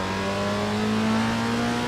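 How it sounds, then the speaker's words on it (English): A 1960s Alfa Romeo race car in Assetto Corsa, its small high-revving engine held at a loud, steady, high-pitched drone that climbs slowly, with no talk. "very high revving"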